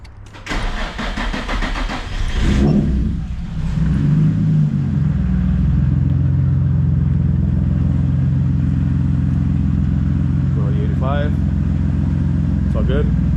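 An E85-fueled tuned Nissan S13 engine cranks and catches, revs briefly, then settles into a loud, steady rumbling idle nearby, with a couple of short voice sounds near the end.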